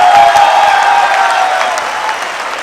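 An audience at a Hindi poetry recital applauds steadily, many hands clapping together in a dense, sustained wash that fades slightly toward the end.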